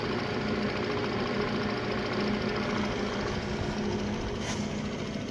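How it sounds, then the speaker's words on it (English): Gearbox of a restored vintage Van Norman 204 brake lathe running at speed, a dense, steady mechanical whir and rattle with a faint rhythmic knock, loud and close. "So let's get a little speed into the gearbox."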